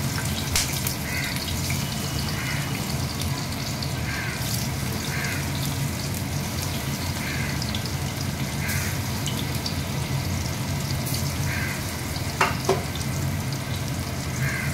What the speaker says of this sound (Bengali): এবার আমি অল্প অল্প করে ভাজতে দেবো